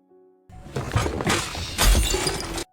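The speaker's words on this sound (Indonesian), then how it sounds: "Ia meraih botol di dekatnya, memecahkannya, dan bersiap bertahan." A glass bottle smashes with a loud crash, followed by a burst of shattering, tinkling shards, close and sharp.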